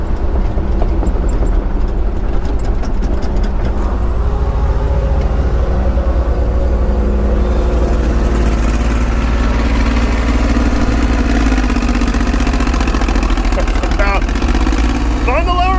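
Old John Deere 350 high lift crawler loader digging a basement, its engine chugging steadily throughout with metallic clanks and squeaks toward the end, no talking.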